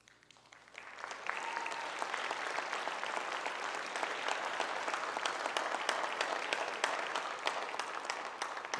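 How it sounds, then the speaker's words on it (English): Crowd at a high school marching band showcase breaks into applause, starting quietly and swelling within a second into sustained, dense clapping that holds steady to the end. "Thank you for the applause break."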